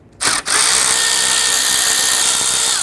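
A power drill or driver runs steadily on a 1999-2004 Jeep Grand Cherokee, backing out quarter-inch grille screws, with a short start and a brief pause before one continuous, close, loud whir.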